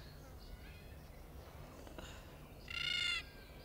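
A bird gives one harsh, loud, crow-like call close by, about half a second long, standing out near the end against a quiet outdoor background.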